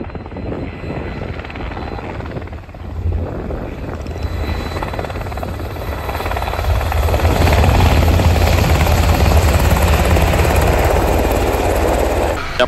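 Black Hawk helicopter in flight, its turbine whine and rotor thrum steady and loud throughout, swelling slightly louder partway through with no speech.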